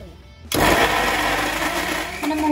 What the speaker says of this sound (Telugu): మనం సోయాని గ్రైండ్ చేసుకోవాలి మిక్సీలో.